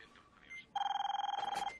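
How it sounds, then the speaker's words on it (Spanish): A mobile phone rings with a steady, rapidly pulsing electronic trill, loud and close after a brief stretch of quiet background, continuing for about a second. "Marido, el móvil."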